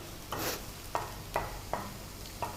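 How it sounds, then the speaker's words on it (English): Onions browning in a pan give off a faint soft sizzle, with about five short stirring scrapes at a fairly even pace, quiet and with no voices. "Let's saute it for another couple of minutes. The onions have browned a little."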